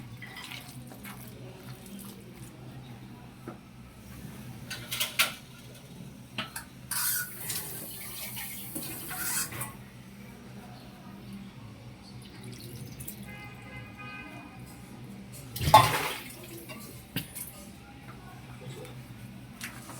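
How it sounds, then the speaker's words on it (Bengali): Water is poured in a thin stream onto marinated duck meat in a kitchen, giving soft trickles and drips close by with an occasional clink of a pot and some faint background sound. "আমি একটু হালকা করে পানি দিয়ে নেব"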